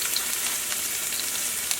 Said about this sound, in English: just going to let that fry for a little bit